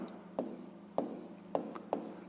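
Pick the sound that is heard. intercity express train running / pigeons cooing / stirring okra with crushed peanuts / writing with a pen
writing with a pen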